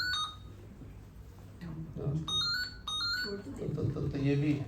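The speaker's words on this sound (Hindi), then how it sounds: "तो ये भी हैप्पी बर्थडे गा रहा है फोन में।" A phone ringtone plays the Happy Birthday tune in short electronic beeping notes, while people talk over it indoors.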